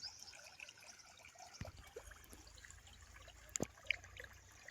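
Irrigation water trickles along a channel into a fenugreek bed on a farm, a soft, faint, continuous flow with a few small splashes and knocks, no voices.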